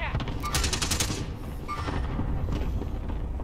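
Rapid automatic gunfire in a zombie shooter video game, a dense continuous rattle of shots with louder bursts, heard up close over constant game noise, with people talking over it.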